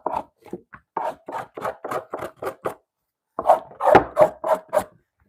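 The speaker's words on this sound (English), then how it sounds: "I just go ahead and scrape it all soft, man." Leather being scraped soft by hand in a leather goods workshop, a series of short rasping strokes in quick rhythm, a brief pause, then several louder, closer scrapes.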